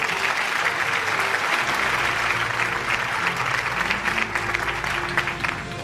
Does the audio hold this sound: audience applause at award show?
yes